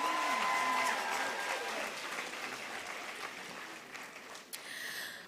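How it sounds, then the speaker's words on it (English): An audience at a UNAM graduation in Windhoek applauds the university choir, a broad wash of clapping that slowly thins and fades, with faint voices underneath. "The UNAM choir, let's give them a round of applause."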